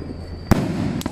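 At a Penang temple's Jade Emperor birthday festivities on the ninth day of Chinese New Year, a loud firecracker bang is followed half a second later by a second, slightly softer pop over continuous background din.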